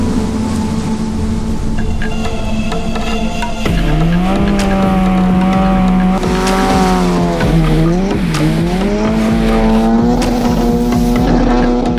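A Nissan 180SX with its stock SR20 engine slides sideways in a drift, its engine droning loudly and shifting pitch as revs rise and fall, with continuous tire squeal running throughout.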